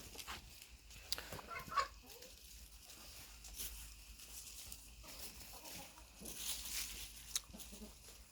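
Chickens, including a golden hen still molting, peck and forage on grass outdoors on a sunny day, with soft clucks and scattered rustling at low volume and occasional faint voices nearby.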